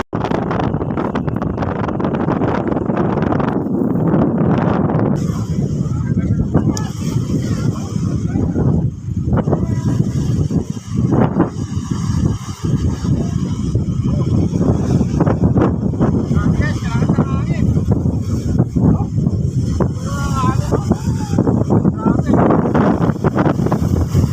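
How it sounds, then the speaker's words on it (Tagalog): Strong wind gusting across a hanging bridge, a loud, steady roar buffeting the microphone for the whole stretch, with rougher bursts along the way. "Lakas ng hangin"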